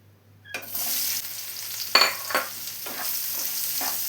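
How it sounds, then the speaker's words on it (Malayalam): Okra drops into hot coconut oil in a pan and bursts into a steady, close sizzle, with a few louder stirring scrapes punctuating the continuous frying hiss. "ഇതിലോട്ട് വെണ്ടക്കായ ചേർത്ത് കൊടുക്കാം"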